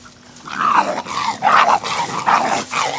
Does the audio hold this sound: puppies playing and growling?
yes